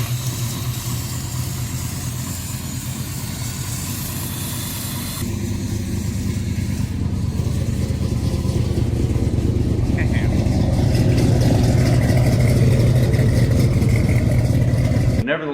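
A 1972 Dodge Challenger with a fuel-injected Holley Sniper setup idles nearby with a steady, throaty V8 rumble that grows slightly fuller toward the end, while someone talks over it.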